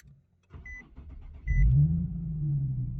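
Push-button start of a Nissan 370Z: a few faint clicks and electronic chimes, then the engine cranks and catches with a loud surge around halfway, settling into a steady, rumbling idle heard close up.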